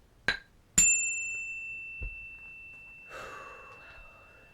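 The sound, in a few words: ringing a bell to clear energy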